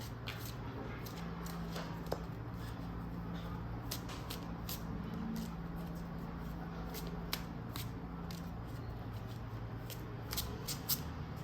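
Tarot cards being shuffled by hand, a quiet, continuous riffling with soft repeated flicks and taps, close and low in level.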